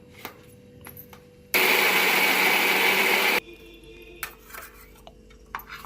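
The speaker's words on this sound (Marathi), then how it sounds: "अशा प्रकारे आपली डाळ आणि तांदूळ आपण सर्व वाटून घेऊया." A mixer grinder grinds soaked dal and rice in one loud, steady roar lasting about two seconds, with quiet kitchen clatter before and after.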